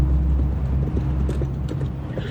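Horses gallop with a continuous, rapid clip-clop of hooves over a low rumble, loud and close throughout, with no voices.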